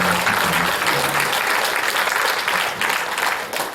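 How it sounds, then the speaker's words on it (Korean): A church audience at a Christmas Eve recreation event applauds children after their silent play, a dense, steady wash of clapping that fades slightly toward the end. "큰 박수로 아이들에게 잘했다고"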